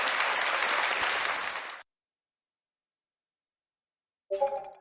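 Loud crowd clapping for nearly two seconds at a racing league event, then silence, followed by a brief burst of sound at the end.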